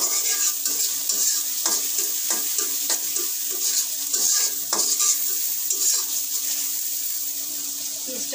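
Onions fry in a pan for a fish curry, a steady bright sizzle with repeated scraping stirs of a spoon, close and fairly loud throughout.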